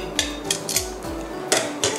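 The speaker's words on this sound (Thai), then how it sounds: "สุดท้ายนะคะก็ตักใส่จากใส่จานได้เลยค่ะ" A utensil scrapes and taps against a plate while Thai-style drunken shrimp spaghetti is scooped out, a series of sharp light clinks in an irregular rhythm, close and clear, with a low steady hum beneath.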